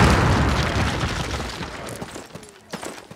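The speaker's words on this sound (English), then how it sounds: "Place your explosives on the cinder block wall." Explosives blow up a cinder block wall in Call of Duty. One loud, deep boom opens and rumbles away over a few seconds, with scattered debris crackles as it fades.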